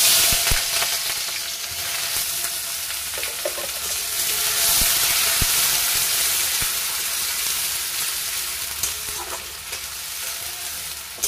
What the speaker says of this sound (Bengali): যে কুচিয়ে রাখা পেঁয়াজগুলো দিয়েছিলাম আমি, সেই পেঁয়াজগুলো এবার এর মধ্যে তেলে দিয়ে দেবো